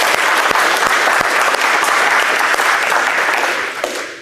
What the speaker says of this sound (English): so just clap for that firstly